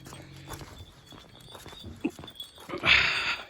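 A dog barks a few times at mid distance amid outdoor rustling and footsteps, with a louder burst of noise near the end.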